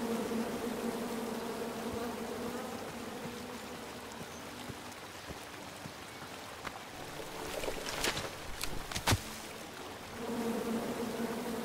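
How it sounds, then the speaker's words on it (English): Bees buzzing in the King's Quest video game, a steady droning hum running through the scene that swells and flutters with sharper bursts toward the end. "Come at me, bees!"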